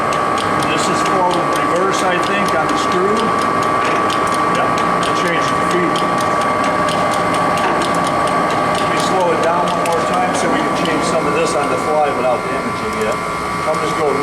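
A Ryazan Stanko 16K40 heavy duty engine lathe, 36 by 120 inches, runs at a quicker speed with a loud, continuous mechanical drone and a steady gear whine, close up and unbroken.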